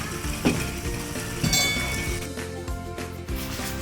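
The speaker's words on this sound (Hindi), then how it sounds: "5 मिनट के लिए मैं इसकी भुनाई करती हूँ ताकि ये सारा मिक्स हो जाए।" A tomato, garlic and onion mixture fries in a kadai for a mutton karahi, with steady close sizzling and occasional metallic clinks and scrapes of a stirring spoon against the pan throughout.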